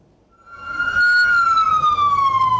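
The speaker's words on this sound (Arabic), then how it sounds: "تهرع سيارات الإسعاف هذه إلى مستشفيات أربيل" Ambulance siren wailing loudly as emergency vehicles rush through Erbil to hospitals after a bombardment; a single rising-and-falling electronic tone swells in from near silence and holds steady over traffic rumble.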